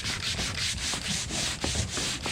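A power sander grinding paint off a wooden Truscott runabout boat hull, loud and close, with a steady abrasive roar pulsing in rhythmic back-and-forth strokes and no talk.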